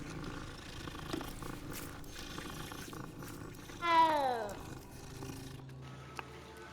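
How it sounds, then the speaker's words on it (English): A cat in the Hogwarts Legacy video game lets out one clear, rising-then-falling meow while being petted, over quiet in-game ambience. "Gotta pet the cats."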